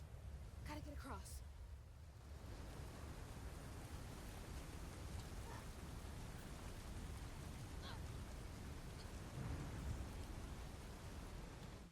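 Steady, dense rain pours through a stormy night in the video game South of Midnight, with broadband hiss throughout and a few distant rumbles of thunder under the downpour, continuous for about twelve seconds.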